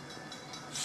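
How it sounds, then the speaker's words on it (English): A train passing at night, a steady broad rumble and hiss held at a moderate distance, swelling slightly at the end. "You can hear the train behind me."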